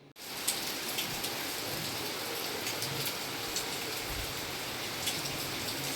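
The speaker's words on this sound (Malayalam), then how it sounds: "ഈ ചൂടിൻ്റെ ഇടയ്ക്ക് ഇങ്ങനെ മഴ പെയ്യുമ്പോൾ നല്ല ആശ്വാസം കേട്ടോ നമുക്ക്" Steady rain falls in a dense, even hiss that carries on without a break, with occasional louder drips tapping on a surface nearby and no voices.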